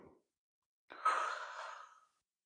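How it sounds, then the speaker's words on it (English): A deep breath drawn in during a guided breathing exercise, heard as one soft, airy, sigh-like inhale lasting about a second in a quiet room, close to the microphone. "Breathe in."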